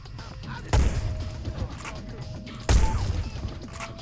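Gunfire in the stealth video game Hitman: Blood Money: two loud, sharp shots about two seconds apart, each with a short decaying tail, over low game ambience.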